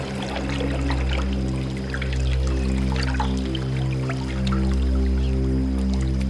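Drinking water pours in a soft, continuous trickle with faint drips, set beneath a loud, sustained musical drone in a TV crime-drama scene.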